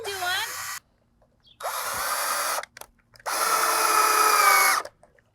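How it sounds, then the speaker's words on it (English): Cordless power drill driving screws into a wooden KidKraft playhouse during assembly: two loud, close whirring bursts with a short pause between, a brief voice before the first. "Okay, so I've got a bunch more to drill in here."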